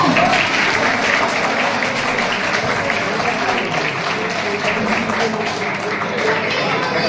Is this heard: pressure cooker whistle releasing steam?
no